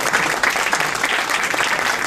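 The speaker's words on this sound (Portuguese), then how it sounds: "era de pedir uma salva de palmas para o Rui Veloso, para o Zé Pedro e também para o Miguel Ângelo" An audience at a book presentation in an El Corte Inglês store in Vila Nova de Gaia applauds musicians, sustained close clapping filling the whole moment.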